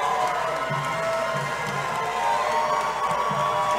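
A Plymouth crowd at a cage fight cheering and shouting, a steady roar of many voices filling the space with a continuous background hum.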